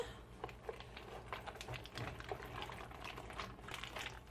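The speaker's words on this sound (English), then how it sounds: "pour our yummy, yummy, ooey gooey cheese sauce into our macaroni. And thoroughly mix that in." Gooey cheese sauce is stirred through cooked macaroni in a pot, giving soft, wet squelches and scraping clicks in an uneven, steady rhythm, close and fairly quiet.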